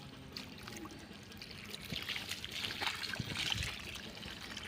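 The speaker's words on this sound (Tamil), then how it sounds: "இப்போ தண்ணியை போட்டு இதை வந்து நல்லா துவைச்சி விட போகிறேன்." Water is poured onto a home garden bed to soak the soil, giving a soft continuous splashing trickle that swells slightly toward the end, faint and close with no voices.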